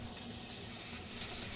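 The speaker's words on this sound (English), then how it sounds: "after the steam first starts to hiss, continue heating for about 5 more minutes" Steady, faint hiss of steam escaping from a pressure cooker on a stovetop, continuous and unchanging throughout with no voices.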